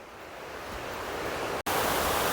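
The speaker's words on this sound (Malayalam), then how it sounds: "ഇത് നമ്മുടെ വെള്ളച്ചാട്ടം എത്തിയിട്ടോ ഇത് ഭയങ്കര വെള്ളച്ചാട്ടം" A powerful waterfall in Meghalaya roars as a steady broadband rush of falling water, loud and continuous with no voices, briefly cut by a short gap before resuming.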